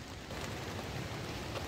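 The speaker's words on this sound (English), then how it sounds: "Rain took over." Steady rain falls beside a suspension bridge on a mountain trail between Bishop, Mt. Whitney and Onion Valley, a soft even hiss with low patter and no voices.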